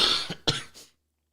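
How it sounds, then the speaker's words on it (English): A person coughs two or three times in quick succession, close and fairly loud, the bursts tapering off into silence. "Sorry for my cough"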